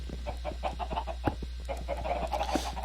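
Several chickens cluck in quick, overlapping bursts in the Minecraft Skyblock video game, close and busy over a steady low hum, with no talking.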